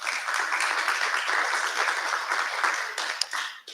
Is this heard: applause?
yes